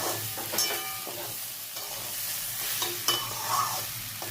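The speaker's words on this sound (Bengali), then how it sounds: "নাড়ানাড়ি করে নিই" Vegetables and green chillies frying with spices in a pan for veg dalia, a steady sizzle with repeated stirring scrapes and clinks of the spoon, close and fairly loud.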